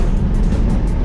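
An old-school box Chevy rolls along, heard from inside as a loud, steady low engine and road rumble with no break.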